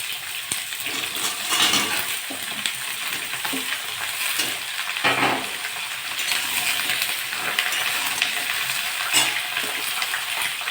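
Green chilli dropped into hot oil in a vegetarian ridge gourd and potato poppy-seed dish sizzles loudly and continuously, with a few faint clinks of stirring.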